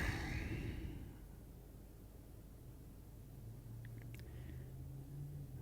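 A gas-powered truck engine drones steadily while driving on the highway near Dallas, a continuous low rumble with road noise and no talking.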